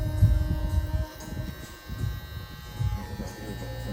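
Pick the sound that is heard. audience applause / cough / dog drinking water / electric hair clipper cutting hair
electric hair clipper cutting hair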